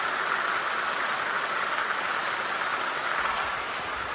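Steady rain pours at a Maharashtra home during paddy-planting season, a dense continuous hiss of drops that stays even and fairly loud throughout, with no voices over it.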